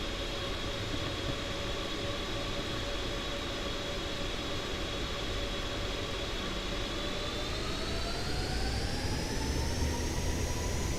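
Jet airliner engines roar steadily in the Aerofly FS 4 flight simulator, a continuous loud whine with tonal whistles that slowly rise in pitch as the engines spool up.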